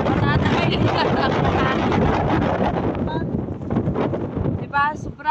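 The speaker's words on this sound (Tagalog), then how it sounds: "Sobrang lakas ng hangin guys." Strong wind roars and buffets the microphone continuously, with some faint speech and sounds poking through the blustery noise.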